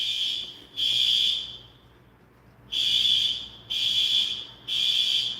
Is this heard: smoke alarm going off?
yes